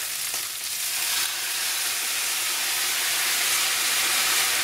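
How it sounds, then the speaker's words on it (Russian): Beef browning for goulash hisses loudly after vodka hits the hot pan, a dense continuous sizzle and steam that swells slightly toward the end, with no talking. "Теперь добавляем водку."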